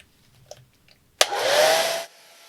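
After a couple of soft clicks, a hair dryer switches on abruptly and blows in a loud, steady whoosh for just under a second before cutting off; it is drying a watercolor painting of a squirrel.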